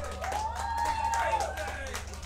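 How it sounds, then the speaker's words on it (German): Applause and clapping for a guitarist at a live band gig in a Berlin café, steady and close, with a sustained guitar tone ringing through and a low hum underneath. "Applaus für Dr. Tran."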